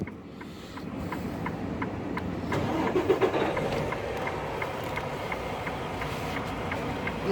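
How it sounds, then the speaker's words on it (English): A truck engine cranks and turns over in a steady rhythmic chugging, then settles into a loud close idle with a regular ticking pulse, carrying on alone without talking. "We're going to turn the truck on."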